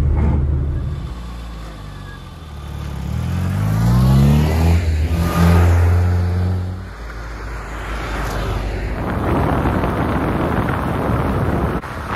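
Restored classic Mini on the road, its small engine droning and rising as it accelerates through the gears, with wind rushing around the cabin throughout.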